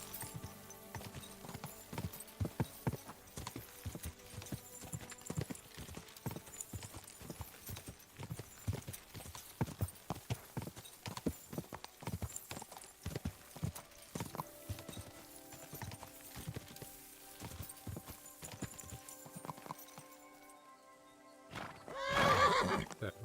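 Horse hooves gallop over ground in the video game Kingdom Come: Deliverance 2, a fairly quiet, steady, rapid clip-clop that continues for most of the stretch, with a louder whinny near the end.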